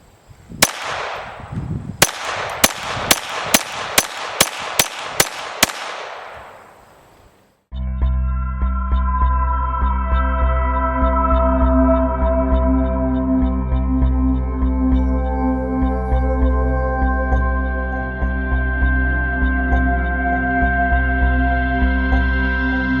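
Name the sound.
Browning Buckmark .22LR pistol shooting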